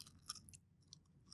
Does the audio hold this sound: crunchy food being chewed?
yes